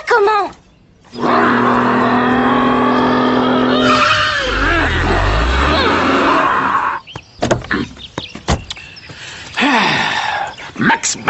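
A racing car in a virtual driving game skids with drawn-out tire squeals and engine whine, loud and close, broken by short talking voices and a groan in the middle.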